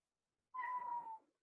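A house cat gives a single short, clear meow close by, lasting under a second, in an otherwise quiet room.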